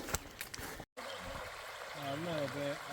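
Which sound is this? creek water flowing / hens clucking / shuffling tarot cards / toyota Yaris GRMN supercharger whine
creek water flowing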